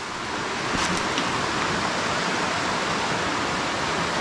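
Water flows in a stream at a Konkan home stay, a steady broadband rush that stays loud and constant with no breaks and no talking.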